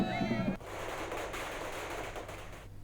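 Fireworks from a victory celebration by winning election candidates crackle and pop in a dense, continuous barrage just after a brief snatch of voice, sounding somewhat distant.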